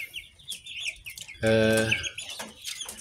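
Free-range Indonesian village chickens clucking and chirping close by, with a brief louder cackle midway among lighter bird calls.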